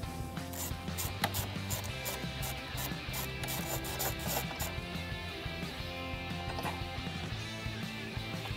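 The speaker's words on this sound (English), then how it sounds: "Now we can remove the fastener for the battery's hold-down plate." Fastener being removed from the battery hold-down plate of a 2014 Porsche Cayman, quick ratcheting clicks and scraping metal in uneven bursts, close up with no talk.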